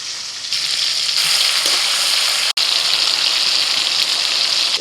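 Ginger paste hits hot oil already holding whole cumin, cardamom, cinnamon, cloves, chopped tomato and salt, and a loud hiss swells into a strong, continuous sizzle with one brief break.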